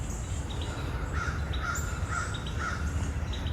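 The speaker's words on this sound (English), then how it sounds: "There's the red birds in my stuff." Red birds call in a backyard vegetable garden among pepper plants, with faint, repeated chirps scattered over a steady outdoor hiss and no talking.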